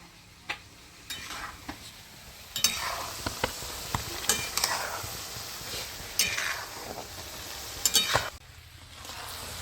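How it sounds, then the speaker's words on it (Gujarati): Green peas deep-fry in hot oil for salty namkeen, a steady loud sizzle and crackle broken by sharp clinks of a metal slotted spoon stirring the pan. "જ્યાં સુધી વટાણા આપણે ખખડતા ન થાય ત્યાં સુધી એને આપણે તળાવવા દેવાના છે"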